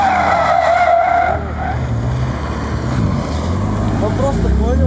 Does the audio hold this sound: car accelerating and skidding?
yes